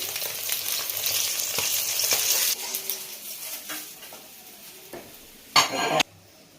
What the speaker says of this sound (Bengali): ওই তেলে আমি গোটা শুকনো লঙ্কা বোটা সহ দিলে দেখতে ভালো লাগে